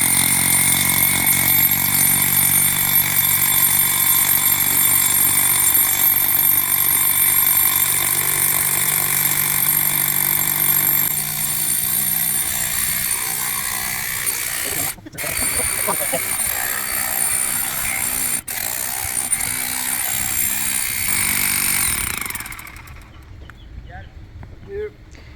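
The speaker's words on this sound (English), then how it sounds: "But that is a hammer drill." Loud, continuous rattling pounding of a hammer drill driving an 8-foot ground rod into the earth, with engine-like drone, steady for most of the clip before cutting off near the end.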